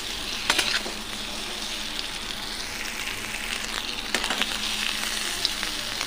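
Potato pieces fry in a couple of spoonfuls of oil in a pan, a steady close sizzle broken by a few sharper crackles and stirring scrapes.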